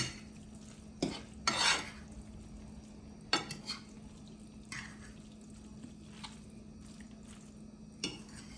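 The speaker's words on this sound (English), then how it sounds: "I love when I hear that sloshing of spaghetti and everything in my pan." Soft, quiet stirring of spaghetti with shrimp in a pan: a few wet sloshes and scrapes of a utensil against the pan, spaced irregularly over a low background hum.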